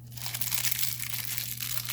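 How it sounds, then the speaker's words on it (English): Iridescent film crumpled by hand for resin art, a dense continuous crinkling and crackling that stays close and fairly loud throughout, over a steady low hum. "So I'm just going to crumple it up a little bit just to give it a little bit of dimension"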